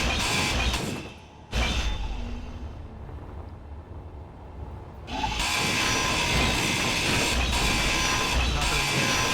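A grinder tool working in the space game Space Engineers on a moonbase, a continuous mechanical grinding whir that drops away briefly mid-way and then resumes loud and steady.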